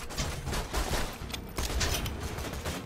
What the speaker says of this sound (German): Wieso explodiert hier alles?